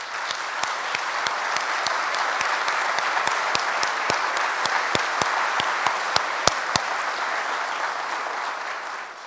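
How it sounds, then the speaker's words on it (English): Sustained, even applause from an audience at a memorial service celebrating a man's life, steady clapping that fills the room for about nine seconds with no talk over it. "if you wouldn't mind just giving a big round of applause for Bill's life"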